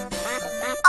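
A duck quacks twice in quick succession, close and clear, with no other sound around it.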